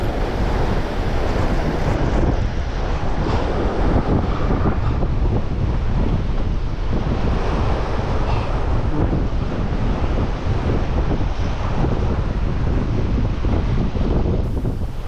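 Strong side wind gusts across a seashore during shore jigging for grouper, roaring loud and constant against the microphone with surf washing underneath throughout, with no talking.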